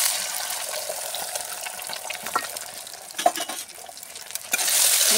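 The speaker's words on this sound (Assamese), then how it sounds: "কণীটো এতিয়া ইয়াতে তেলতে দি দিম।" An egg fries in hot oil with turmeric in a wok, giving a steady, bright sizzle close by that swells and crackles, with a few sharp pops and a louder burst near the end.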